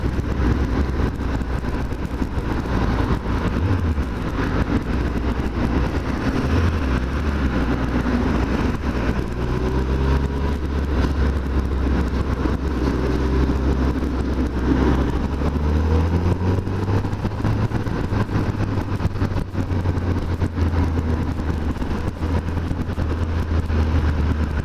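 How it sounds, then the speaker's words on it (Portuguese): A Suzuki Hayabusa motorcycle rides along a road in Japan, its engine droning steadily and close with shifting pitch as it accelerates and changes gears, under heavy wind rush. "Que moto louca, mano."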